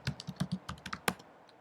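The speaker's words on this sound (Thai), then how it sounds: "พิมพ์คำสั่ง su นะครับ แล้วก็ enter จากนั้นก็ใส่พาสเวิร์ดที่เรากำหนดไว้แล้วนะครับ" A run of about a dozen crisp, close keystrokes on a computer keyboard as a su command and password are entered in a CentOS 8 terminal, quick and uneven with one sharper press near the end.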